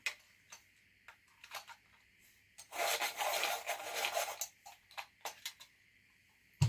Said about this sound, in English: Sharpen this a little bit.